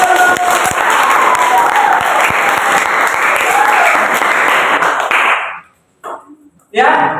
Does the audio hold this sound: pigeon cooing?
no